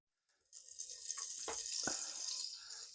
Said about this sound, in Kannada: ಎಣ್ಣೆ ಪಾಡ್ಗ